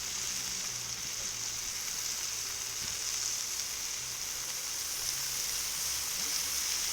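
Broccoli, asparagus and cauliflower fry in sesame oil on a Cuisinart 360 XL griddle, giving a steady, close hiss and sizzle that carries on without a break and with no voices.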